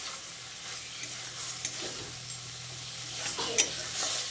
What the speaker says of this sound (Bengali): ঢ্যাঁড়সগুলো দিয়ে মশলার সঙ্গে ভালো করে নেড়ে চেড়ে মিশিয়ে নিচ্ছি।